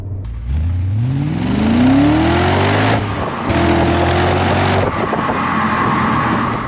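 A 2001 BMW E39 M5 accelerates hard on the road, its engine rising in pitch through a gear, pausing briefly at the shift, then pulling again, loud and close.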